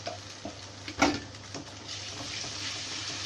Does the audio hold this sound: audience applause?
no